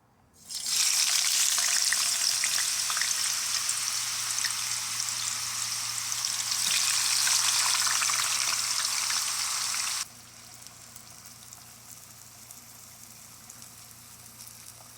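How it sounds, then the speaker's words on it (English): Fries frying in hot oil, a loud, dense crackling sizzle that starts abruptly and holds steady before dropping sharply to a quiet background hiss. "Let's get these fries started."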